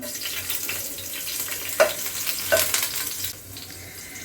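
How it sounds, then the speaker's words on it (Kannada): Finely chopped green chili sizzles and fries in lightly heated oil in a pan, a steady close crackle with a few stirring scrapes and sharper pops, and no talking. "ಎಣ್ಣೆ ಸ್ವಲ್ಪ ಲೈಟಾಗಿ ಕಾದಿದೆ. ಇದಕ್ಕೆ ಮೆಣಸಿನ್ಕಾಯಿ ಸೇರಿಸ್ಕೊತಾ ಇದ್ದೀನಿ."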